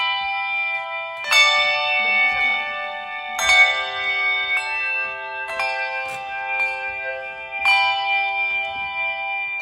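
Bronze bells struck by a percussion quartet in Saint-Quentin ring out in four clear, overlapping strikes, each leaving long shimmering harmonic tones that decay slowly between hits.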